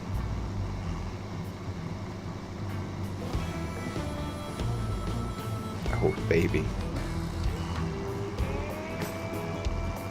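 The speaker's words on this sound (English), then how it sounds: "Driving around in the tractor with the radio blaring." A tractor in the farming game Farming Simulator 17 rolls along with a steady low engine drone, a radio playing country music over it, and someone speaking briefly above the noise.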